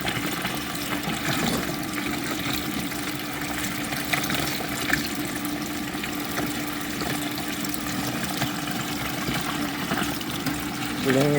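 A resin printer wash station spins its liquid bath to rinse loose resin off a part, giving a steady churning, sloshing whir that stays even and close throughout.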